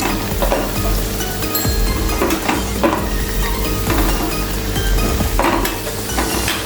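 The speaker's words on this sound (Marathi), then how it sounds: "व्यवस्थित मंद गॅसवरती तळून घ्यायचं" Upvas fasting nuggets fry in a pan over a low flame with a steady, loud sizzle, broken by occasional scraping stirs and light clinks of utensil against pan, with no voices.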